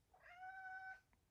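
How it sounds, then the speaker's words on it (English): Migi, an orange cat, gives one clear drawn-out meow, faint and somewhat distant against quiet background. "So if you hear meowing"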